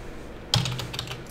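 A quick burst of keystrokes on a computer keyboard while entering a command at the command prompt, starting after a short quiet pause and continuing as a close, steady patter of clicks.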